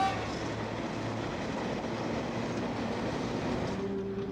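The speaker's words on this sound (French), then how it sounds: "L'autorail de Dion-Bouton du P au Corrèze qui vient d'arriver de Tulle." A De Dion-Bouton railcar runs along the track toward Brive, giving a steady, moderately loud rumble with a faint low engine drone, heard alone without voices.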